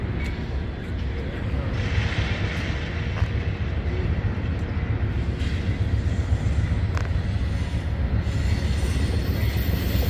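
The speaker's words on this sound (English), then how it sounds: "here comes Amtrak train number 505, Cascades service," An Amtrak Cascades Talgo passenger train, number 505, passes on the far track near Vancouver, Washington, with a steady loud rumble of wheels on rail and intermittent squeals throughout.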